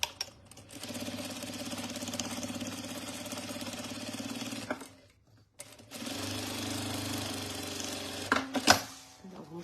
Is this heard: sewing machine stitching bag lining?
yes